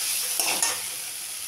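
Potatoes fry in a pan with a split green chilli, a continuous sizzle marked by a couple of sharp stirring clicks partway through.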